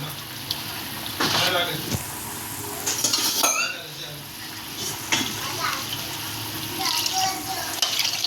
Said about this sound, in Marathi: मी आता हे पाणी ॲड करते